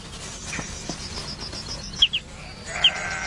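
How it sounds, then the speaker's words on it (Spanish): Sheep graze on an open meadow kept clear as grassland, with a few short bleats and calls over soft rustling and insect-like background, moderately distant. "Pero el mejor método para conservar los campos abiertos es el uso de ovejas."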